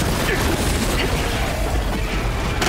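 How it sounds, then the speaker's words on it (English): A grenade explosion in a video game, with a loud, sustained boom filling the whole moment and rumbling broadband noise, a sharp crack near the end. "Throwing grenade!"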